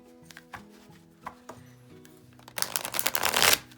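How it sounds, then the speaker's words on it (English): Tarot cards of slightly thick cardstock are handled with a few soft taps and flicks, then a fast riffle shuffle rattles loudly and close for about a second. "Let's see how it shuffles."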